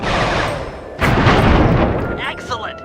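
Fireworks launch in Sly 3: Honor Among Thieves as a loud rushing burst of booms and crackles that swells and then fades, over a busy game soundscape.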